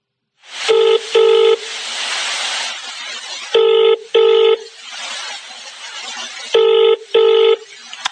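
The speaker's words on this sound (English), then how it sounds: "He is phoning her for directions." Touch-tone telephone dialing: a caller lost on the way to a party keys in a number, with paired beeps in three short bursts separated by stretches of hissy background, close and clear.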